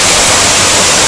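Steady, dense roar of a waterfall on a hiking trail, the second falls reached, a constant broadband rush filling the short moment with no voices.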